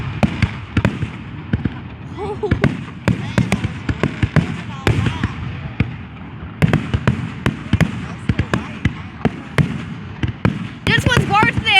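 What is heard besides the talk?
Fourth of July fireworks finale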